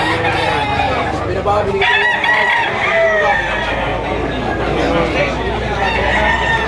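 Roosters and hens at a busy poultry market crow and cluck over one another, loud and close, with overlapping long crows and steady background chatter of the crowd.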